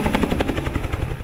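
A helicopter rounding up wild horses on the Little Book Cliffs drones steadily overhead, its rapid rotor beat loud and continuous throughout.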